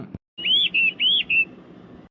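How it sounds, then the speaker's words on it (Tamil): Sparrows chirp at dawn in a village, a quick run of bright, high tweets close by after a brief knock, then fading into quiet background. "அந்த குருவிங்க சத்தம் எல்லாம் காது அடைக்குது"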